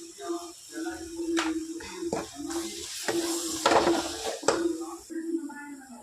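Squid roast being stirred in a pan with turmeric and salt, a soft scraping and sizzle under steady nearby speech, with a few sharp utensil clinks against the pan.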